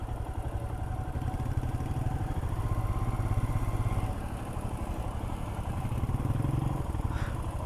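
A motorcycle ridden through monsoon rain on the way to Jawhar, its wheel slipping on the wet road, gives a steady, close, dense engine chug that runs unbroken through the whole stretch, with no voices.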